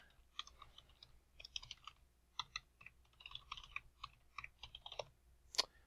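Fingers type on a computer keyboard while filling in a past-lease form, a quick irregular patter of light clicks in short bursts, close and clear with no talking.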